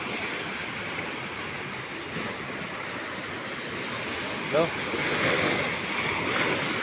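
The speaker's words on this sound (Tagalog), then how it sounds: "Tahimik ang dagat ngayon, kuan lang yung alon ba, mababa." Calm, low sea waves off a beach at Tumon, Guam, wash in as a steady soft surf hiss with some wind noise, while a person speaks briefly over it.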